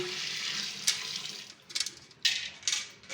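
Water pours into a large pot of beef pieces for a village-style beef korma, coming in broken splashy bursts that rise and fall over about three seconds, close by with no talking.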